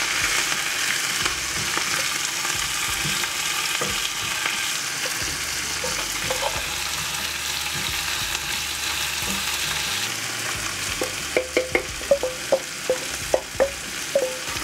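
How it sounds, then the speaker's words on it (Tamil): Steady sizzling of finely chopped curry leaves and onion frying in hot oil, with scraping and stirring clinks growing more frequent toward the end. "எண்ணெய்க்குள்ள கருவேப்பிலையை போடுறேன், நல்ல பொடியாக நறுக்கின கருவேப்பிலை"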